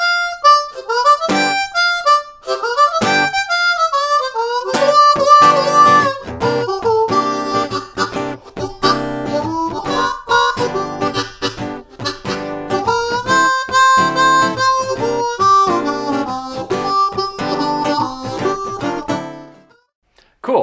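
A C harmonica plays a fast blues tune with quick bent notes, chugging chords and warbling runs, loud and close, alone with no talk, ending after about twenty seconds.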